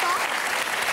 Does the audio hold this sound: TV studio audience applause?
yes